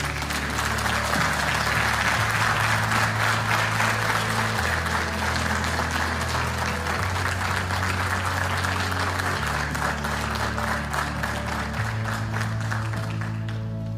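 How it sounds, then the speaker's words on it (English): An audience at a Westbury school board of education meeting gives a big round of applause, sustained even clapping with a steady low musical hum running beneath it for the whole stretch. "let's give a big round of applause"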